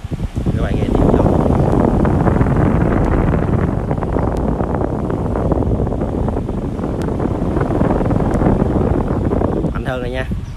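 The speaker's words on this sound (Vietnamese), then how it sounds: "Các bạn nghe tiếng gió." Outdoor wind roaring in a loud, continuous broadband rush that buffets the microphone, steady for nearly the whole stretch before easing at the very end.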